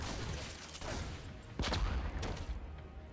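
A Reaper's grenade bursts among Zerglings in StarCraft II, with sharp crackling impacts and a heavier thump midway through a busy mix of unit fire, fairly quiet overall.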